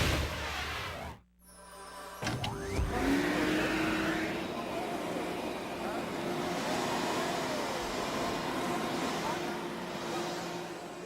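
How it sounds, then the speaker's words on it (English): A Hoover Wind Tunnel vacuum cleaner runs with a steady, loud motor roar and a rising whine after a brief drop near the start. It continues unbroken to the end, with voices faintly underneath. "Hoover Wind Tunnel Vacuum."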